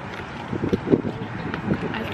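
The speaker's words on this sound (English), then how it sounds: "It is very cold and windy." Cold wind gusts across an outdoor crochet market at a pumpkin patch, a steady roaring rumble buffeting the microphone with uneven swells and no clear voices.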